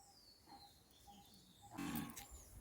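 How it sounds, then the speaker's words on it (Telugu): A cow moos nearby at a temple cowshed, a deep drawn-out call that swells toward the end, with faint birds and insects in a quiet outdoor background. "ఇదిగో ఇంట్లో ఆవులు ఉన్నాయి."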